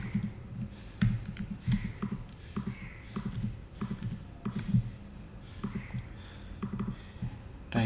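A formula being entered on a computer keyboard: close, irregular clicking of keys in quick bursts and short pauses, with no talking.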